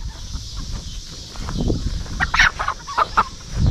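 A black hen clucks and squawks in agitated bursts, close by, over a muffled rustling background.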